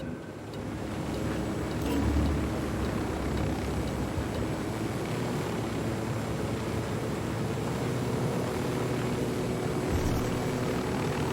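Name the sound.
helicopter arriving in video game Ghost Recon Wildlands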